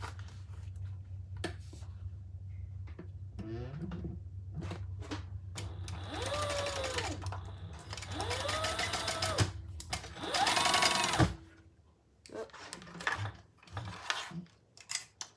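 A sewing machine stitches the bottom of a crossbody bag through heavy interfacing, with bursts of whirring motor and rising-falling hum between quieter ticking and clicking pauses.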